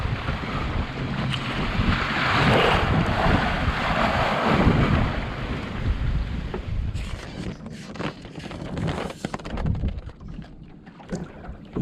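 A Drascombe Lugger sailboat underway off the North East Scotland coast, loud wind buffeting the microphone over rushing water and waves against the hull, easing to choppier splashing and gusts later.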